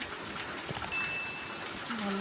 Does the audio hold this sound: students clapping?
no